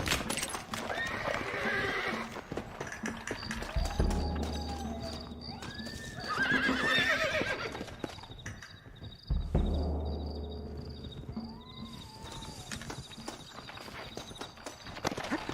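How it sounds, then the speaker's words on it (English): Horses in a Red Dead Redemption video game clip-clop along at a walk while one whinnies loudly twice, over a steady chirp of crickets and a low rumbling backdrop. "Looks like Carlos left us some horses"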